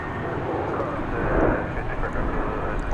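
Airliner departing DFW Airport, a steady, broad engine roar heard from a distance that swells slightly midway and holds throughout.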